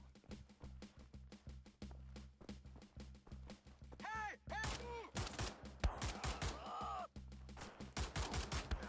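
Rapid gunfire from Wolfenstein: The New Order, with bursts of shots, sharp impacts and explosive hits over a low steady game drone, loud and continuous, plus some distorted in-game voice sounds.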